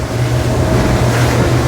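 An Aquila Molokai boat running on the ocean at 2,400 revs, a steady close engine drone blended with rushing water and wind noise, continuous and loud without any voices.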